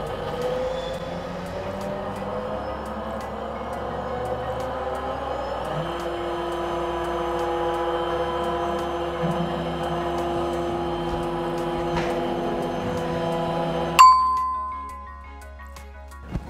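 A Roland monoFab SRM-20 desktop CNC milling machine cuts a PCB with a steady, whining hum of layered tones that shift in pitch now and then, until it stops abruptly near the end and leaves a faint residual ring.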